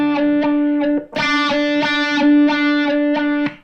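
Distorted electric guitar playing a repeated single note through a wah-wah pedal, the tone sweeping open and closed in a steady rhythm of plucked attacks, loud and close with no talking.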